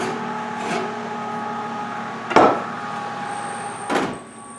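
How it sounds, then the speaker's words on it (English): A heavy cast iron pot pulled from an oven: a quiet humming background broken by two or three clanking knocks of metal against the oven rack, fairly close and moderately loud, with no talk. "I'm going to pull the cast iron pot out of the oven"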